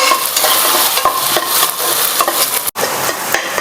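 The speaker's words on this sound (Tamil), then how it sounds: "வதக்கிற வெங்காயம் கூட இப்போ இஞ்சி பூண்டு பேஸ்ட் போட போகிறோம்" Onions frying with ginger garlic paste in a pan for a cashew mutton dish, a loud dense close sizzle with constant stirring scrapes and a brief sharp knock near the end, no talking.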